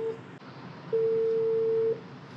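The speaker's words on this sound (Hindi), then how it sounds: "फ़ोन नहीं उठा रहा इब्राहिम।" Phone call that goes unanswered, a single steady ringback tone holding for about one second after a brief earlier beep, over a faint hiss of background noise.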